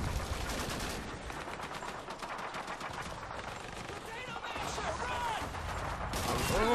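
Machine gun fire in the video game Call of Duty 2 rattles in rapid, sustained bursts throughout, dense and loud, with explosive battle noise layered around it.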